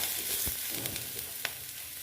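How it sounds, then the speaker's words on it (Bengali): Eggplant pieces frying in hot oil in a pan alongside potato, onion and fish fat, giving a steady close sizzle with a couple of brief stirring clinks and scrapes, no voices. "এইবার আমি এখানে দিয়ে দেবো বেগুনগুলো। দেখো, বেগুনগুলো দিয়ে দিলাম।"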